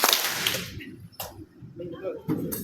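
A group of people clapping in unison on command during a class session on stress, giving sharp broadband claps with a loud opening burst and a few more scattered hits, and some talk and room noise between them.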